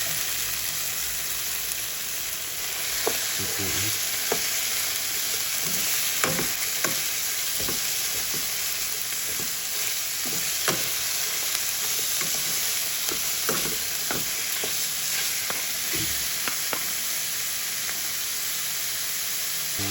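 Ground pork and tomatoes frying in a pan for a radish dish, with a steady close sizzle and hiss throughout and repeated stirring scrapes and clicks of a utensil at an irregular rhythm, no talking.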